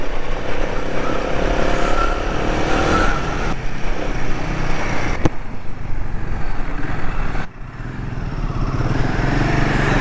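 Heavy road traffic on a busy main road in India, with cars and trucks rumbling and passing steadily at close range, loud and continuous throughout with no talk.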